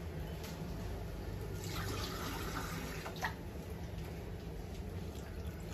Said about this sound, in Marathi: थोडंसं पाणी घातलं, जरा घट्ट झाले पीठ.